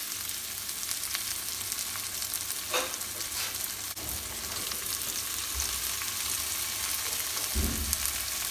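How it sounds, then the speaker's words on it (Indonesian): Steady crackling sizzle of anchovies frying in hot oil, close and continuous, with a few soft stirring knocks. "di sebelahnya akan saya pakai untuk menggoreng ikan teri"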